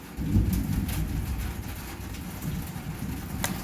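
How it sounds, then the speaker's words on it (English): Steady rain hisses and patters with a low rumbling undertone like distant thunder, occasional sharper drops standing out against the wash. "Especially like the front edge of a storm like this."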